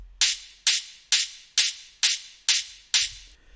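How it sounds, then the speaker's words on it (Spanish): An open hi-hat loop from a hard-techno template in Ableton 11 plays alone, seven evenly spaced bright, hissing hits, each opening sharply and decaying over roughly half a second, with faint low rumble underneath. "Tengo un loop de open hats que suena así."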